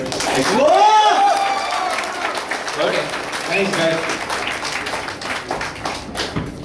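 An audience applauds at an office event, a dense patter of hand claps that swells early, then thins and fades while someone speaks briefly over it.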